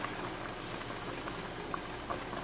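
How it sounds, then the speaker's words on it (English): Yorkshire pudding batter sizzles and crackles steadily as it is poured into hot tins, a dense continuous frying hiss with scattered small pops, close and alone with no talk. "you can see it sizzling as he pours it in there"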